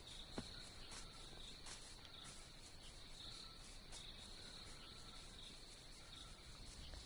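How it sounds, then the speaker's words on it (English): Crickets chirp steadily in a Minecraft swamp, a faint, continuous high trill with a few sharper clicks and distant bird-like calls scattered through the quiet background. "When you enter a swamp, you hear crickets."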